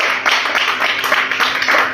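A church congregation applauding the Lord on a Sunday morning, dense, loud, continuous clapping from many hands, with no speech over it.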